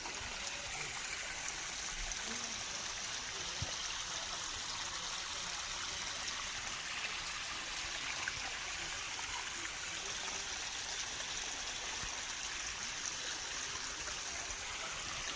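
Water runs from a pipe into a well in a rural setting, a faint, continuous trickling stream with no break or talk.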